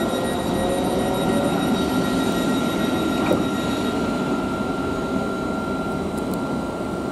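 Thameslink Class 700 train departing London Blackfriars station, a steady rumbling roar of wheels and traction motors with a faint whine, continuous and fairly close throughout.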